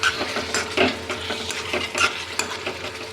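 A spoon stirs a paneer curry with potato, carrot and ghee in a pan: repeated close scraping strokes over a soft, continuous sizzle, with light metallic clinks and no voices.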